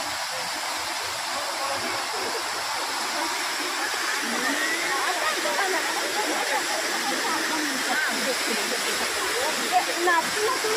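Phurlijharan waterfall in Kalahandi pours steadily, a dense broadband roar of falling water that stays loud and constant throughout, with faint voices mixed beneath it.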